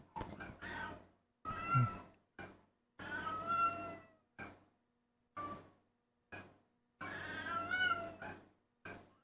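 A cat meows repeatedly in clear, separate calls, some drawn out and insistent, with short silent gaps between them; the cries are close and fairly loud, and no one talks.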